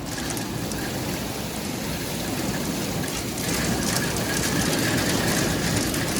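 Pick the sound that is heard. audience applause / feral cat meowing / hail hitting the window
hail hitting the window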